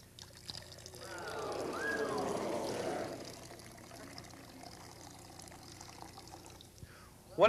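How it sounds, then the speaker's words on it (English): Liquids are poured together to mix a luminol chemiluminescence solution, making a close, steady pouring and trickling sound for about two seconds that then fades into quieter background. "What I'm doing is I'm mixing together two compounds. One of them is a compound called luminol."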